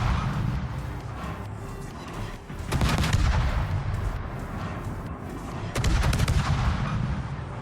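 Guns on a Z-46 destroyer in World of Warships fire high-explosive rounds at a Soviet battleship, loud booming volleys arriving in two main bursts over a continuous deep rumble of game ambience, with no speech.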